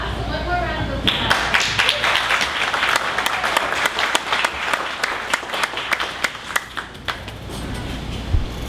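An audience at a 1 Million Cups Dallas startup event breaks into applause after a short stretch of voice, with close, sharp individual claps over a dense clapping wash that continues for several seconds.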